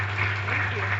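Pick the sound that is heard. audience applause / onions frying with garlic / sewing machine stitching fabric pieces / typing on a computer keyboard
audience applause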